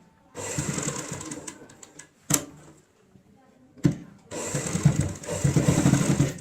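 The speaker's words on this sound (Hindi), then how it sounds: "अब हम सिलाई यहाँ पे लेके आएंगे ऐसे" A sewing machine stitches seams on a homemade tote bag, two close whirring runs separated by a quiet pause with a couple of sharp knocks.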